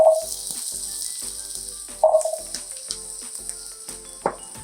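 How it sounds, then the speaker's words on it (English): Onions and potatoes sauteing in oil in a pan, a steady close sizzle with soft stirring clatters and a couple of louder spoon-on-pan knocks. "we're gonna saute up some onions"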